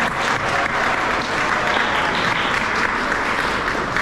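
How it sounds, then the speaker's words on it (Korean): A wedding hall audience applauds, a broad, even wash of clapping from many guests that holds steady at fairly high volume throughout, with no speech over it. "저한테 보내주시는 박수는 이 정도면 정말 충분하고 과분하지만"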